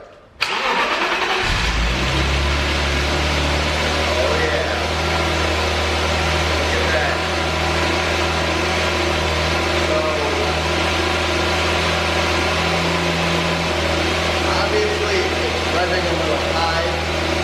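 A BMW E34 car engine, restored after a blower motor fire, cranks and catches, then settles into a steady, loud idle with a low rumble that holds for the rest of the clip.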